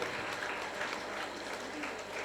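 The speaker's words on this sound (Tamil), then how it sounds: "ஏன்னா கைத்தட்டினா உடம்புக்கு நல்லது." Clapping from the audience at a Tamil association's annual celebration runs continuously in a thick, even patter, moderately loud and close, with no voices on top.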